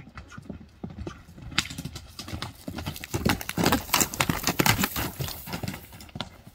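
Close horse hooves clip-clop under a rider, starting sparse and quickening into a dense, loud patter of sharp strikes, with no voices over them.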